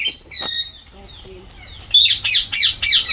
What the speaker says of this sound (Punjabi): ਇਹ ਚਿੱਟੇ ਕਲਰ ਦਾ ਤੋਤਾ ਜੀ ਇਹਦੇ ਉੱਪਰ ਕਲਗੀ ਜੀ ਬਣੀ ਹੋਈ ਆ ਖੋਪੜੀ ਦੇ ਉੱਤੇ